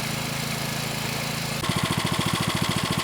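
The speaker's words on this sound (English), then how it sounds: "Here we have the Honda WX10 at an idle." A small Honda WX10 water pump engine runs close by, a steady low drone that shifts partway through into a faster, pulsing chug, with no voices.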